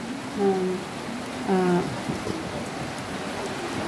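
Steady heavy rain hisses throughout beside a rough sea, with brief tonal calls or voices rising over it near the start.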